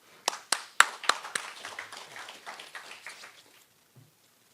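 A small conference audience claps to welcome a speaker, a scattering of sharp hand claps that builds briefly and then thins out over a few seconds to silence.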